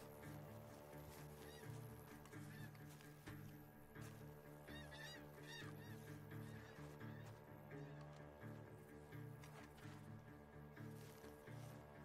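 Geese honk in the Red Dead Redemption 2 video game, a flock giving repeated nasal calls in loose clusters over a continuous layered game soundtrack, fairly quiet overall.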